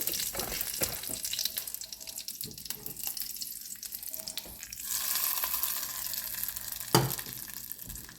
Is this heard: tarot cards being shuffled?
no